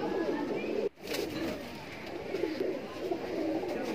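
Kaldume pigeons coo in a loft, a steady low murmuring that runs throughout, with a brief dropout near the start and faint background noise.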